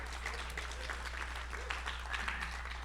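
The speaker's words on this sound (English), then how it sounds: "join me in giving them another round of applause" An audience at a conference session applauds the speakers, a faint, steady patter of many hands heard from a distance over a strong low electrical hum.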